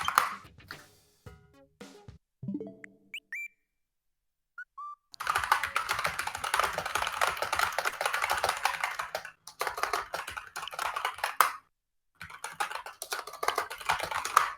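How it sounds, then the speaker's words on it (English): Clacky typing on a mechanical computer keyboard, in dense bursts of keystrokes with short pauses between, close and fairly loud, with no talking. "Sorry about the incessant typing."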